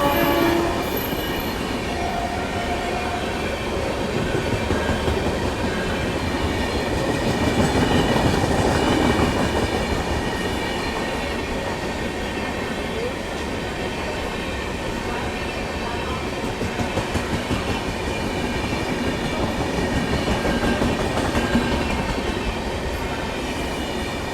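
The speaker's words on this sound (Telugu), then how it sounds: "మన గ్రాండ్ ట్రంక్ ఎక్స్ప్రెస్ అయితే వెళ్ళిపోతుందండి, న్యూఢిల్లీ చెన్నై ఎగ్మోర్" The Grand Trunk Express, New Delhi to Chennai Egmore, rolls through a station in a long, loud, continuous rumble with rhythmic wheel clatter, a sustained horn-like tone and squealing wheels, steady from start to finish.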